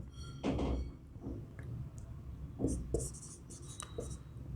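Chalk or marker scratching across a board while trigonometry is written in a classroom lesson, in short quiet strokes with small taps and pauses between them.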